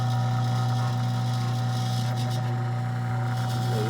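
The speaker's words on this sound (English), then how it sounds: "we're ready to maybe plug her in and see if it runs under its own power" A vintage Mimar fan's motor runs on its high setting, giving a steady close electric hum with a faint rattle of the housing and no change in level.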